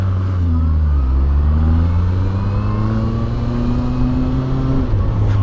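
A Benda LFC 700 cruiser motorcycle's engine runs loud and close, its steady low drone rising and settling slightly as the throttle shifts, with no talking.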